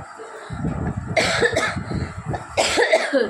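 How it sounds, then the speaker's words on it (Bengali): A woman coughs hard in a series of harsh, close bursts that come in two clusters, loud and with no speech between them. "কি প্রচণ্ড পরিমাণে আমার কাশি হচ্ছে"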